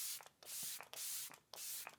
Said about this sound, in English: I'm gonna go ahead and just spray that on like the sides of the face.